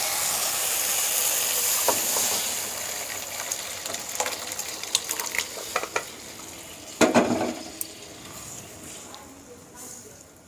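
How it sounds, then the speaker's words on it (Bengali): Yellow split peas poured into a hot spiced tempering set off a steady close sizzle and hiss, with a sharper burst of spitting partway through before it settles back down. "এবার আমি এর মধ্যে ডাল ঢেলে দেব।"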